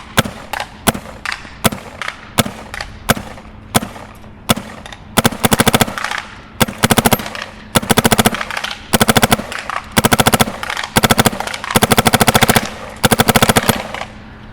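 Empire Axe 2.0 and Mini GS paintball guns fire in sharp, loud bursts: single pops and quick double shots at first, then rapid strings of fast shots, with short gaps between volleys.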